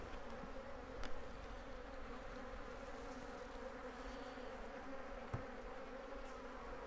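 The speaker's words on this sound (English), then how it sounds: "look at the number of bees around me" A dense swarm of aggressive killer bees buzzes steadily around an opened hive box, a close, continuous drone with a few brief louder passes near the ear.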